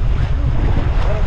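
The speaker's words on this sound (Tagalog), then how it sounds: "Mas lumalakas po ngayon ang alon." Sea waves and strong wind during the amihan monsoon, recorded from a boat at sea; steady loud rumble of surf and buffeting wind noise on the microphone throughout, with no talk.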